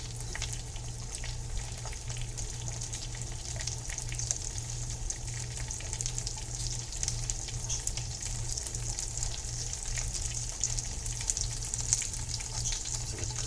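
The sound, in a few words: quesadilla frying in butter in a pan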